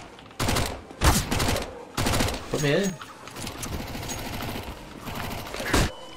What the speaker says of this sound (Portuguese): Um monte de tiro.